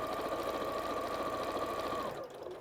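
A home sewing machine stitches binding onto fabric for a picnic blanket in a steady, fast, continuous whir that runs close and even, then stops abruptly near the end.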